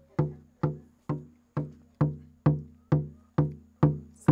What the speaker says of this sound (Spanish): El arriero es el tambor principal y suena así,